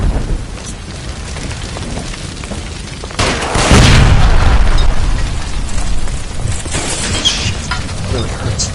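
A gas line by the stove explodes in L.A. Noire, a sudden loud roaring blast that swells and rumbles for several seconds over the dense background noise, then trails off into lingering crackling and smaller bursts.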